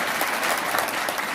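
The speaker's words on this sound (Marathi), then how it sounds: "झालं का, टाळ्या पण वाजवेल." A school audience in Nashik claps at a demonstration against superstition, a close, steady burst of dense applause with no pauses.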